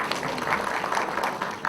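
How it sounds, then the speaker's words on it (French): A room of attendees at an association's general assembly applauds steadily for an election committee member, a dense, even patter of many hands held at moderate level for the whole stretch with no talk over it. "On va applaudir pour lui."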